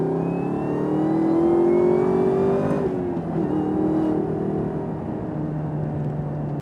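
A 2018–2020 Chevy Camaro ZL1 engine with 650 horsepower climbs in a loud revving pull, then eases off to a lower steady drone, fairly close and alone.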